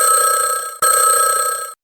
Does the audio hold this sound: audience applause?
no